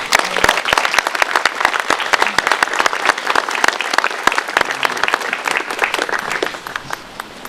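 Hearty audience applause for Mr. Crawford at a 2009 reception and re-dedication of the Irish Cultural Gardens, with dense, steady clapping from a crowd that fills the whole stretch without a break.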